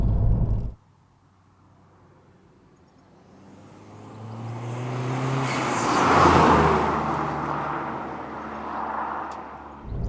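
A modified 294 bhp SEAT Ibiza TDI diesel hatchback accelerates hard, its engine note building from a low drone into a loud, sustained pull that peaks and then eases slightly, heard from inside or close by with no talking.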